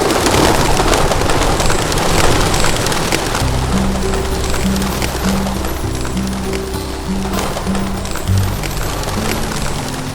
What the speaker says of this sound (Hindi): जब कबूतर उड़ने लग गए तो कोई मैजिकल फीलिंग आ गई।